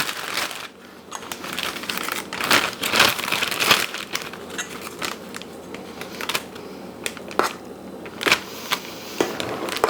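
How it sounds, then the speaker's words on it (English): A plastic Ziploc bag being handled and crinkled while filling it to pipe mashed potato for shepherd's pie, with close, irregular rustles and crackles throughout and no talk. "We're going to use a Ziploc bag and we're going to pipe it on."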